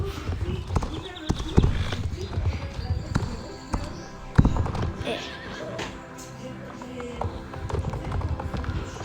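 Horses at a stable, with hooves clip-clopping in irregular steps and a whinny, fairly close, while people talk nearby.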